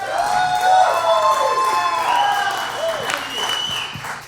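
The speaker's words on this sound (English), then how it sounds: "let's give them a big round of applause for what a great set" An audience claps and cheers after a band's live set, a crowd of applause with whoops and shouts behind it, while voices call out over the noise.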